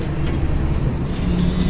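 Idling V8 car engine, freshly started, gives a steady close low rumble through a short stretch, with no one speaking over it.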